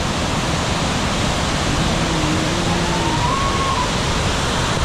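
Abbey Falls near Madikeri in monsoon season, water pouring down in a steady, dense broadband roar that fills the whole stretch without a break, close and loud, with no voices.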